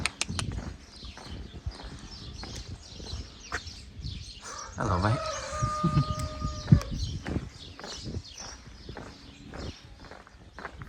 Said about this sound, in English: What is that? Oh, it's a horse.